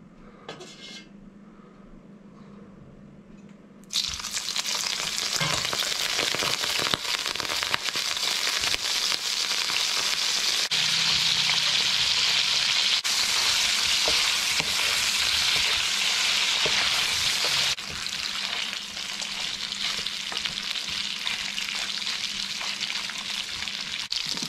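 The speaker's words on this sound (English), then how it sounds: "we'll get a bit of a sizzle going" A loud, continuous sizzle of beef frying in a hot pot starts abruptly after a quiet moment, with occasional clinks of utensils, no talking.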